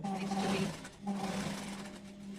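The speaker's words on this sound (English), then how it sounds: "This is a very old sewing machine." A very old sewing machine stitches a quarter-inch quilt seam with a steady mechanical hum and whirr, pausing briefly midway before running on, while a voice speaks over it.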